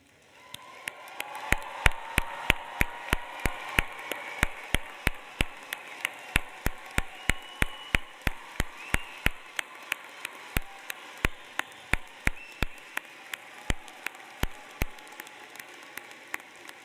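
Applause for the Information School class of 2025 at a convocation: a sustained wash of crowd clapping, with loud, distinct individual claps ringing out close by in a steady rhythm throughout.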